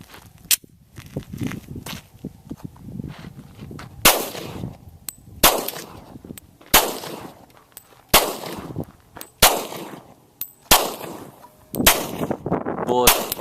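Glock pistols fire in a rapid series of about ten loud, sharp bangs at irregular intervals of roughly a second, each cracking out and decaying quickly, with faint voices and shuffling in the gaps.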